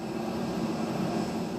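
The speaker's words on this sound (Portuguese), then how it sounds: "diante da proximidade da chegada do primeiro avião Hércules da Força Aérea" A Brazilian Air Force Hercules military transport plane arrives, its engines a steady, even broadband roar that holds constant and fairly loud throughout, with no voices.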